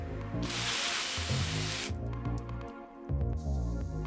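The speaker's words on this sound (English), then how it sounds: "if we spray the windshield, for instance, the water runs right off" A short burst of water sprayed on a 1991 Pontiac Firebird's windshield hisses for about a second and a half, then dripping and light tapping follow, with soft background music underneath.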